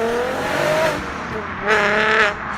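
Auto Delta 147, a tiny car with a big engine, driven hard with front tires squealing, engine revving loudly with rising and falling pitch and two tire squeals up close.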